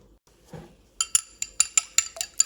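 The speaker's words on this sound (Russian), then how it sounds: "и взбиваю яйцо." A whisk clinks rapidly against a bowl in about eight quick, evenly spaced metallic strokes, close and crisp, after a brief soft rustle.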